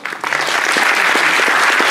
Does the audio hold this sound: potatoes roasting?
no